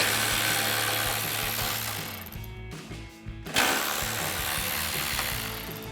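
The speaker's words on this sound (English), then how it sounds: "we'll grab our T15 Torx bit on our ratchet and go ahead and remove these." A ratchet turning a T15 Torx bit to remove the taillight screws on a 2019-2024 GMC Sierra 1500, a steady rapid clicking close up that pauses briefly before resuming.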